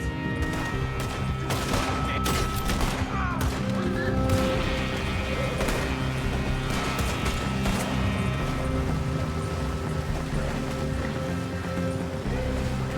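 Gunfire in a Red Dead Redemption 2 shootout, a steady barrage of overlapping shots over a constant background roar of water and engine-like rumble, loud and continuous throughout.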